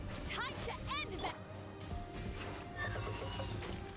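A horse whinnies in a video game, Genshin Impact, with several rising-falling neighs early on and another later, mixed with game music and voices speaking over it.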